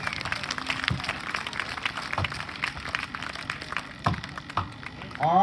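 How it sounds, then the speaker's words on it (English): Scattered audience applause at a Pennsylvania butcher block competition, moderately distant and uneven, with a few louder claps and a brief rise near the end. "Give him a big round of applause,"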